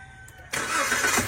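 A car engine cranks briefly and catches, then settles into a steady, fairly loud idle in an auto repair shop, with no talking over it.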